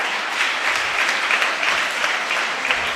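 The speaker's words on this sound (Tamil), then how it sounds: "நல்லா கைதட்டுங்க." Steady, dense applause from a crowd at a parish church gathering, sustained clapping with no pauses, fairly loud and even throughout.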